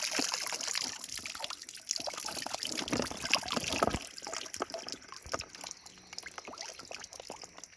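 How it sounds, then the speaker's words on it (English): Water trickling and dribbling out of a homemade crawfish trap as it is lifted, a steady close splashing drain with uneven spurts and drips, loudest in the first few seconds and easing toward the end. "Let this water drain out."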